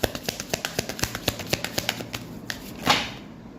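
Tarot cards are shuffled close up in a quick, regular run of crisp flicks and taps, ending in a softer sliding rustle.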